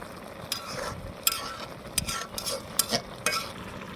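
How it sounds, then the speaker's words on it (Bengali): A spoon stirs a bubbling puti fish curry with data stalks, potol and jackfruit seeds in a wok, giving several distinct scraping clinks over a steady low simmer, with no talking. "এই যে তরকারিটা আমার বলক এসেছে এখন আমি একটু নেড়ে চেড়ে দেবো"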